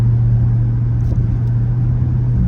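A Jeep SRT cruising at about 63 mph in four-cylinder cylinder-deactivation mode gives a steady, low engine and road drone that stays even throughout, with no talking.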